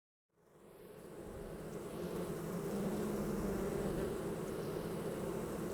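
Tens of thousands of bees, 50,000 to 60,000, humming inside a hive: a dense, steady drone that swells in after a brief silence and holds close and even.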